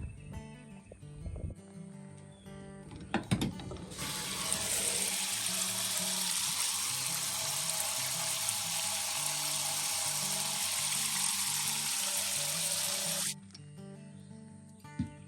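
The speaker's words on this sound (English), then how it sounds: "I'm really lucky to have an outdoor shower so that I can wash vegetables" Water gushes steadily from an outdoor shower tap for about nine seconds, a loud, even hiss that starts and stops abruptly, with a faint low hum underneath.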